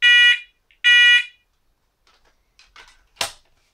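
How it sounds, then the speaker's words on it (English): A fire alarm going off during a test, two loud piercing electronic beeps in a row followed by fainter clicks and a sharp snap as it stops. "And it just keeps repeating that noise until you shut the alarm off."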